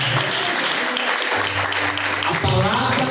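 A church congregation claps in praise of the Lord during a worship service, dense rhythmic clapping under singing and voices, loud throughout.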